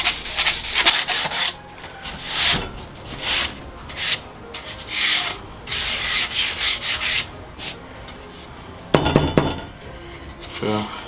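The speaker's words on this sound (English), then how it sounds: "first we need to sand up the PVC itself" A length of PVC pipe is hand sanded for a Lego-style lightsaber prop, making rough, rhythmic rubbing strokes in short bursts at close range, with a few clacks of handling near the end.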